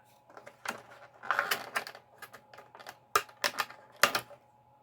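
Plastic ties snipped off a reissued Teenage Mutant Ninja Turtles Splinter figure package: a close, irregular run of sharp clicks and snaps with short pauses between bursts.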